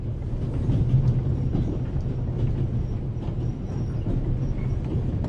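Passenger train rolling along in The Raven Remastered, a continuous low rumble and rattle of wheels and carriage with faint clicks throughout, steady and fairly close, no voices.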